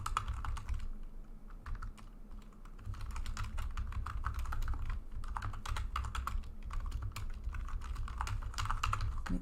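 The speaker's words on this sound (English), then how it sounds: "Let me type this out." Fingers clatter steadily on a computer keyboard, a close, continuous run of quick key presses with brief pauses, no talking over it.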